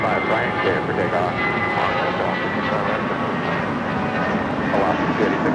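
A jet airliner takes off at Los Angeles International Airport with a loud, steady engine roar that fills the whole stretch, heard up close with voices faintly present beneath it.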